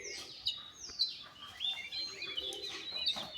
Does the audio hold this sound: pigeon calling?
yes